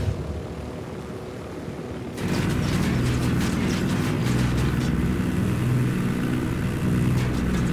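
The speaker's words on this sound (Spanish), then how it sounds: "Un ataque al helicóptero ese" Attack helicopters battle in the video game Ghost Recon Wildlands, a quieter mechanical hum suddenly jumping into a loud, sustained rotor and engine roar laced with crackling bursts of gunfire.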